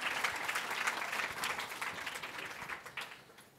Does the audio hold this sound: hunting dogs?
no